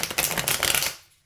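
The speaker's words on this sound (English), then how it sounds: "this is some smooth shuffling" Tarot cards being shuffled by hand, a quick run of crisp riffling, flapping bursts lasting about a second before trailing off into quiet.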